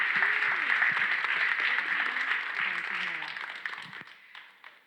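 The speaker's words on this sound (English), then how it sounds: "Let's give them another round of applause" Audience applause for youth panelists at a college and career readiness panel, steady clapping under a speaking voice that gradually fades out toward the end.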